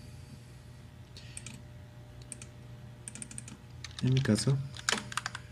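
Computer mouse clicks come in short, sharp bursts near the microphone, sparse at first and then a quick louder cluster, while a person briefly speaks.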